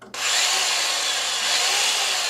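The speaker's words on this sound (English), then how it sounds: "I've got my jigsaw here." A power jigsaw starts abruptly and runs steadily with a loud, high buzzing whine and no pauses.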